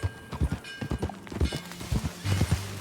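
Rhythmic clip-clop of horse hooves at a trot in the video game Red Dead Redemption 2, fairly close, with a few bursts of movement and a low rumble underneath.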